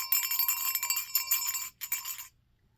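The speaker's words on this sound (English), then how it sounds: "I've got my silver bell from my tree" A small silver bell ornament from a Christmas tree rings in bright, shimmering jingles for about two seconds, with a brief pause before a final shake, then fades to silence.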